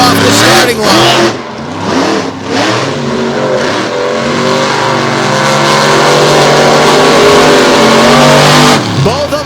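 Monster trucks launch off the starting line past K-rails at a Lake Erie monster truck show, loud engines revving and roaring continuously with rising and falling pitch sweeps, under a commentator's talk.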